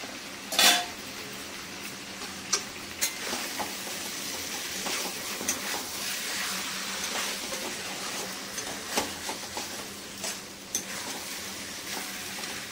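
Chicken pieces coated in masala sizzle continuously in a pan, with a spatula stirring and occasionally knocking against the metal in sharp, scattered scrapes, close up with no voices.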